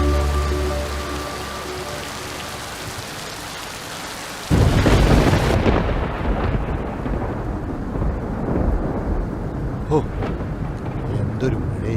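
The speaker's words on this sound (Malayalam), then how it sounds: "എന്തൊരു മഴയാണ്!" Heavy rain pours down with rolling thunder during a monsoon downpour, a dense steady roar that swells suddenly louder partway through and stays close and loud to the end, with no voices heard.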